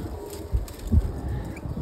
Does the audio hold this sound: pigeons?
yes